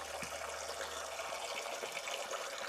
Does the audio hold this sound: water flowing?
yes